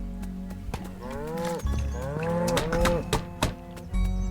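A cow in the video game Thank Goodness You're Here gives several drawn-out moos in a row, close and loud over a faint background.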